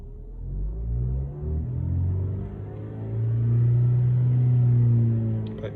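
Vauxhall Corsa D engine with a P0171 fault code being revved up to about 3,000 rpm, a close, loud, steady engine tone rising and holding with low rumble.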